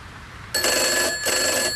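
A telephone bell rings in two bright, trilling bursts separated by a short gap, loud and close in an indoor room.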